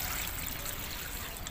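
Water poured onto turmeric plants to soak the soil before harvest, a steady close splashing trickle that stays even for a brief moment.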